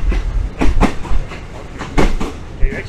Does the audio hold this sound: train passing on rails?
yes